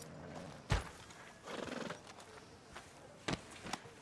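Horse hooves clop and a horse whinnies in the video game Red Dead Redemption 2, a few sharp hoof strikes scattered over a quiet background with a short neigh in between.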